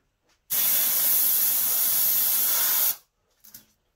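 An airbrush sprays black paint over a stencil held down with masking tape, one steady loud hiss lasting about two and a half seconds, close up, then cutting off, followed by a faint brief puff.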